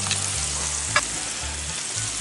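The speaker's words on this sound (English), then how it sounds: "Give it a few minutes to sear the other side." Corned beef searing in a cast iron pan on a Weber kettle grill, a continuous close frying sizzle with soft crackles and a brief clink near the middle, no speech.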